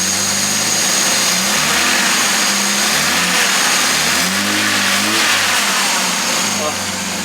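A vintage Jaguar's engine runs loudly up close, rising and falling through several revs over a steady idle, while someone talks over it.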